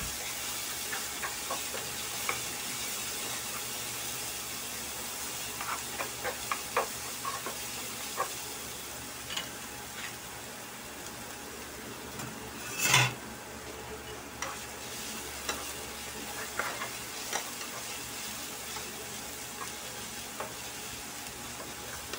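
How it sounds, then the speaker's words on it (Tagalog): Garlic fries in a pan until golden brown, giving a continuous crackling sizzle with scattered stirring clicks and one sharp scrape midway, close and steady. "Pag golden brown lang natin yung ating garlic."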